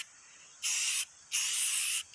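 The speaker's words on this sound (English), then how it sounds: "so I'm gonna spray" A spray paint can gives two steady hissing bursts, the second longer, close by and fairly loud, as paint goes over a camper's tongue outdoors.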